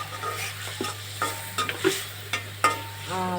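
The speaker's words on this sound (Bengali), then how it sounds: "এটা একটু ভাজা হোক" Spices fry in oil with chilli powder, turmeric and a splash of water, as a spoon scrapes and stirs the pan in sharp, irregular strokes over a low steady hum, with no talking.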